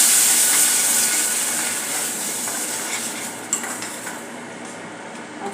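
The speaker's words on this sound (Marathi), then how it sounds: "मिक्स करूया." Tomato puree being stirred into a hot pan, a soft sizzle with scraping and light clinks of a spoon against metal, gradually fading with a few sharper knocks near the end.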